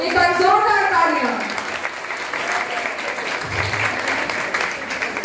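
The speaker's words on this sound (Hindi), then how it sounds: "एक बार जोरदार तालियां इनके लिए" Loud applause from an audience at a Women's Day event honouring a woman named Jayshree, a broad sustained wash of clapping that opens under a voice and carries on alone, fading slightly.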